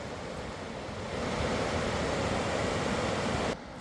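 Continuous rushing water of Jenny Creek, broad and steady, swelling slightly louder midway before dropping off near the end, with no voices.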